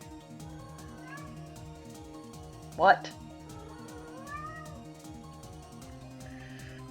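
A kitten gives a single short, sharp meow close by, rising above steady background music while a person talks.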